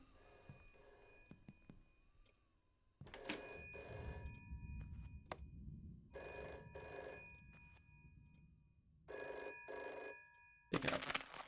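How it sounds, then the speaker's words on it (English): A telephone rings in the video game Shadows of Doubt, repeated electronic ring bursts separated by short pauses, moderately loud over a low ambient hum with faint background sounds. "Phone's ringing."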